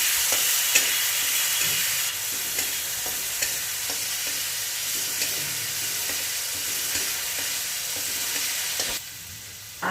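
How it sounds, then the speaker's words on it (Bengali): Ginger-garlic paste frying in a pan for chicken jalfrezi, a loud continuous sizzle with regular scraping stirs, close and unbroken until it drops off abruptly near the end, no voices. "আদা রসুনের পেস্ট দিলাম, রসুনের পেস্টটাকে ভালো করে ভেজে নিচ্ছি।"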